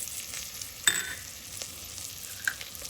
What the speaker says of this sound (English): Now at this time I'm going to put the red chili,